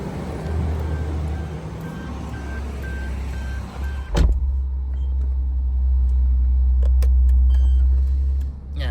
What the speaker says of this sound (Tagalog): Yan, start na agad yung kotse.